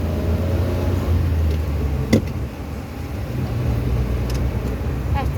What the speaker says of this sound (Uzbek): Qarama qarshi yo'limizda mashina oqayapti.